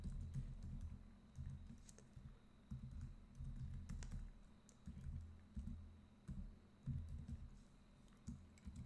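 Rapid typing on a computer keyboard while coding, with quiet irregular bursts of key clicks and short pauses between them.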